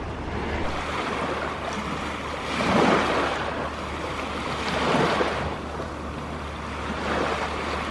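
Surf washing onto a warm Caribbean beach at St. Thomas, a steady broadband rush with three slow swells building and fading, heard from a far point out from the shore with light wind noise and no talk.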